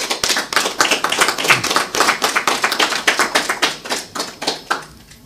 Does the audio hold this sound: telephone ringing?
no